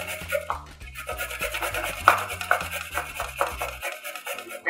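Carrots rubbed against a large metal grater, a steady rhythmic rasping in repeated strokes, close and fairly loud, with no talking.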